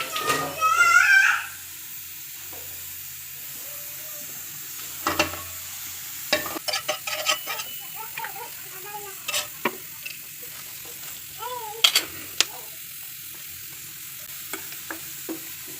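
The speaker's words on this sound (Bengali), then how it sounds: "এখন আমি প্যানে তেল দিব। আমি প্যানে আগুন দিয়েছি" Oil heating in a pan on the stove gives a short loud sizzle at the start, then fades to quiet with scattered clinks and stirring knocks while someone talks softly.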